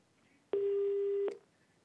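Telephone busy tone after a caller's line drops during a phone-in health show: a single steady electronic beep lasting under a second, clear and alone against faint background hiss.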